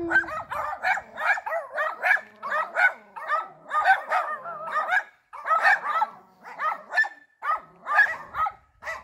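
Several dogs bark repeatedly and excitedly on a rural path in Galicia, Spain, a dense run of overlapping barks and yips with barely a pause, fairly close and loud.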